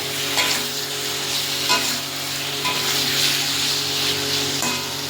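Katla fish with potato and pointed gourd sizzles steadily in a pan while being stirred, a continuous close frying hiss with repeated scraping strokes of the spoon.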